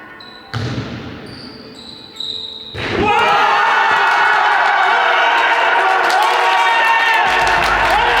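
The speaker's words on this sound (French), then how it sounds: "Vous hurlez, ok?" A crowd of film extras playing sports fans bursts into loud cheering and shouting after a couple of thuds, building into a sustained roar of whoops and yells that fills the space.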